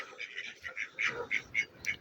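Farmyard ducks quacking in short repeated bursts, about seven or eight calls in quick succession, fairly close but soft, with little else around them.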